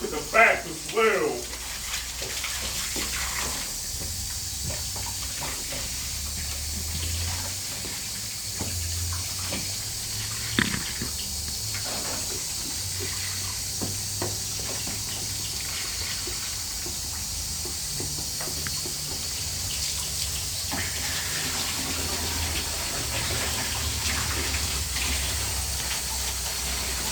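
A hose sprays water across an air-conditioner coil to rinse off Nu-Calgon Tri-Cleaner 2X, a steady hissing gush that runs throughout with occasional splashy bursts, while a person talks over it.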